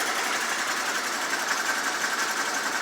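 Noisy muffler exhaust on an ATV being made street legal, a steady buzzing, high-pitched drone held at even level throughout, with no voice over it.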